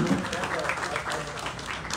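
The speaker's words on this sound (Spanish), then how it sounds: "un aplauso muy fuerte para Teteles, que ya tiene cajero automático" Loud applause from a crowd at the inauguration of a municipal cash machine outside a town hall, a steady dense wash of clapping over the full two seconds with a voice heard through it.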